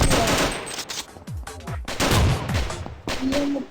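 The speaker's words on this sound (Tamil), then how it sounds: "வெடிகுண்டெல்லாம் போட்டு போறாங்க." Bombs and gunfire burst repeatedly in a video game battle, a dense, loud run of booms and rattling shots with short gaps between volleys.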